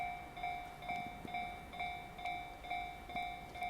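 A Shinkaisoku special rapid train runs straight through JR Yamazaki Station without stopping, making a loud, close rush with a steady high tonal whine and regular wheel thumps roughly every half second.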